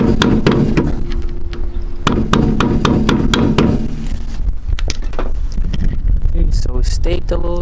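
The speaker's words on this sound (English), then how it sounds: "now all you gotta do is just hit this section in to basically stake the nut" Sharp, rapid metal hammer strikes stake a wheel hub nut during rear wheel bearing work on a 2004–2007 Honda Accord, first in a quick close series, then sparser knocks.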